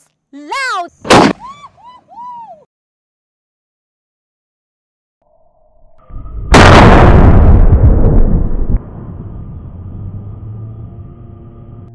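A homemade kerosene-fuelled cannon in the Philippines fires with a single loud, sharp blast that rumbles and decays, preceded by short vocal sounds and a quiet pause, followed by lingering rumble and background noise.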